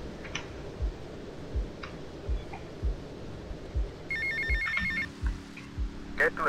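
A payphone ringing in an airport terminal in GTA Vice City, a short burst of electronic bell tones arriving late over a repetitive ticking pulse and low game ambience.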